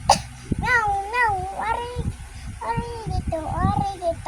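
A voice repeatedly imitates a cat's meow in a sing-song chant, drawn-out wavering cries in pairs with short pauses, close and fairly loud over faint background noise.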